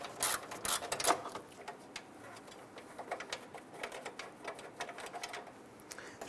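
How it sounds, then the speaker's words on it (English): Gear wrench ratcheting on grille bolts of a 1997-2006 Jeep Wrangler, quick faint clicking bursts repeating irregularly, close, with no talk. "we're gonna switch over to a gear wrench here for clearance purposes"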